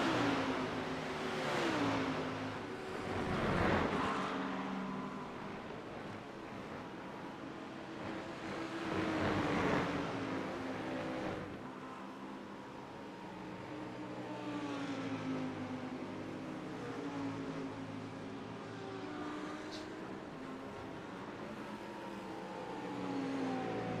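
GT3 race cars, including Audis, Corvettes and a Lamborghini Huracan, lap Watkins Glen in a sim racing game, giving a quiet, continuous engine drone with rising and falling whine as the cars accelerate and shift, heard without speech.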